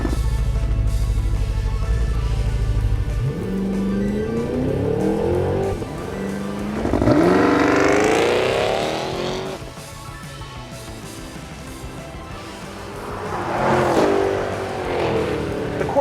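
A 2023 Cadillac Escalade-V accelerating hard, its engine climbing through rising revs with gear changes and a loud surge, then easing and pulling again near the end; no talking.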